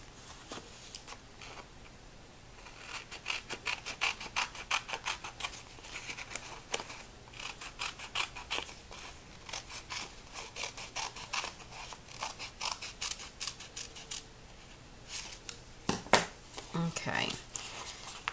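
Scissors snip through paper planner stickers in repeated crisp cuts, with paper rustling in between, close and fairly quiet while someone talks.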